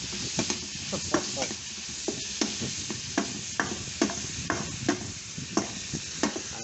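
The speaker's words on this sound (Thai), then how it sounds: "เอาหมูให้เกรียมเลยครับ ไม่เกรียมแล้วจะไหม้นะครับ" Pork stir-frying in a pan on a gas stove for Thai basil stir-fry, with a steady loud sizzle broken by regular scraping and stirring strokes, close and without speech.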